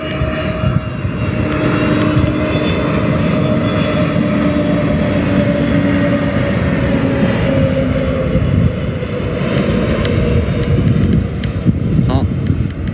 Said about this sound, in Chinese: 马上即将落地进港，后轮的主轮先着陆，海航的空客的 A320的6飞了548公里